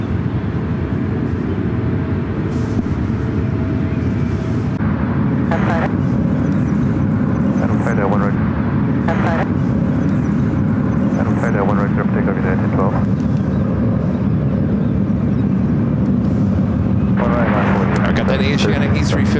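An Asiana Airbus A350-900 arrives at San Francisco's north-side runways, its engine roar a steady broadband rumble from a distance, with people talking over it throughout.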